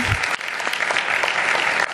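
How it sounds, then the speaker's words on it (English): Audience at a city commission meeting applauds steadily for about two seconds, a dense, even clapping that fills the room from start to finish. "We clap for that."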